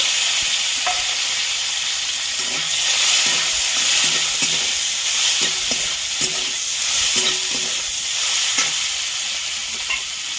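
Chopped tomatoes fry in hot oil with dried chili and whole cumin, a loud, dense, continuous sizzle close up, broken by repeated scraping strokes of a spatula stirring the pan.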